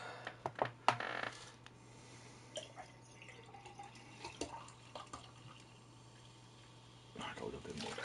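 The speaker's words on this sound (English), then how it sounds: "just pour my drink" A drink poured into a glass, heard as a faint trickle with soft drips in a quiet room, with a few sharper knocks near the start and a busier stretch of handling noise at the end.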